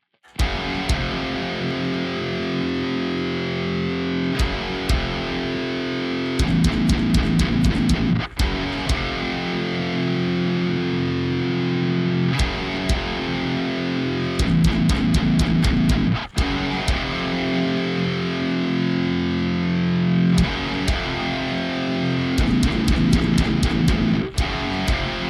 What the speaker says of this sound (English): let me grab the guitar and we'll go ahead and track this section here